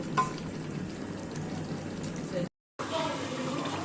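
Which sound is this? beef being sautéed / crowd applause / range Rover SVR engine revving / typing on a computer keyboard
beef being sautéed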